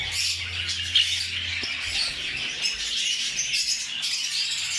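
Pet birds chirp and squawk continuously in a breeding cage, a dense steady chatter of several birds with occasional sharper calls, close by and without talk.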